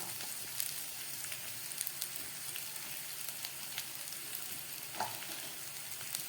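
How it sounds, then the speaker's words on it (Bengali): Eggplant, onion and tomato fry on low heat in a pan, giving a steady, soft sizzle with occasional stirring scrapes, close and even throughout, with no talk. "সমস্ত সবজিগুলোকে আমার এইভাবে ভেজে নিতে হবে খানিকক্ষণ।"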